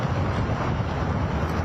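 Strong gusts from tropical storm Bertha at Grand Isle roar as a dense, steady, close rush of wind buffeting the microphone, with no breaks and no voices.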